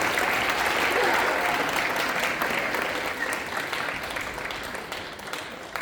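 A school spring concert audience keeps applauding, a thick wash of many clapping hands that stays loud at first and then gradually thins and softens.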